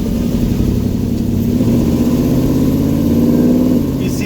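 A 1971 Chevy C10 truck with a new torque converter accelerates, its engine a loud, close, rising rumble that climbs steadily in pitch for several seconds.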